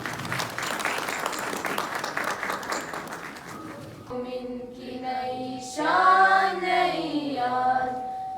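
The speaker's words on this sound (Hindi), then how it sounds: "एक बार जोरदार तालियां इन बच्चों के लिए।" At a high school annual day event, the audience claps loudly for schoolchildren for about four seconds; the applause then stops and a voice begins singing or reciting over a loudspeaker.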